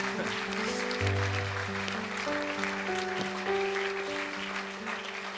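A church congregation applauds, a soft, diffuse clatter of hands mixed under sustained, held musical tones that carry through the whole stretch at a moderate level.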